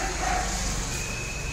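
Dogs bark somewhere in the distance, faint and brief, with a few soft yips under a low background hum.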